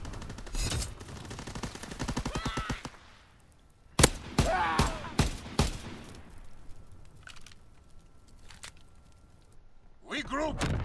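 Gunfire in a Call of Duty competitive match crackles in a rapid burst of shots, followed by scattered single cracks, with players talking over parts of it.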